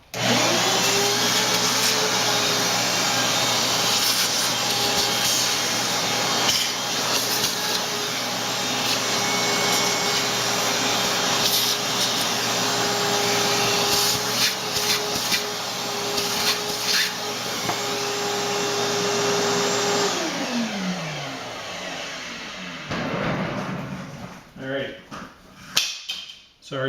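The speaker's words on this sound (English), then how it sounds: "So let's get this vacuumed up." A vacuum cleaner runs loud and steady at close range, sucking up brake dust during the front brake reassembly of a 1995 Enfield Bullet, with rubbing scrapes as the nozzle moves, then winds down near the end.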